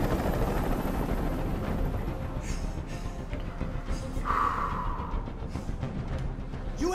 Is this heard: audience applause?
no